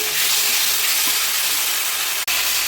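Cabbage and spices sautéing in ghee, a constant loud hiss and sizzle close by, with one sharp click near the end.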